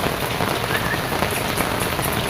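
Heavy rain pours on and around a hut in a steady, dense, loud patter, close by and without a break.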